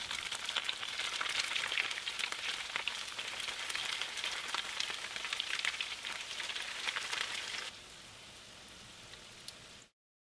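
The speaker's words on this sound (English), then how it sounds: "I'm gonna continue to fry the remaining taquitos." Extra-large taquitos frying in hot oil, giving a dense, steady crackle and spatter that thins out just before cutting off abruptly near the end. Close and fairly quiet, with no voices.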